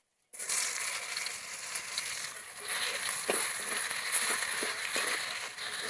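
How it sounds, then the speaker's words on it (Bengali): Chopped onion tossed into hot oil already used for frying prawns with bay leaf and cloves, giving a steady, loud broadband sizzle that starts abruptly and continues with crackles throughout, no talk over it. "এবার দিয়ে দেবো কুচনো পেঁয়াজ।"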